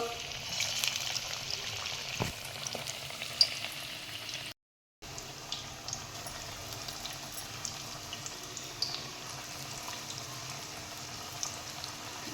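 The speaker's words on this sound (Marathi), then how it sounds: "तेल पण छान तापलेलं आहे तर आपण आता एक एक हे पॅटीस सोडून घेऊन मस्त" Spinach patties frying in hot oil over a medium flame, a steady broadband sizzle with faint crackles throughout and a brief cut to silence partway.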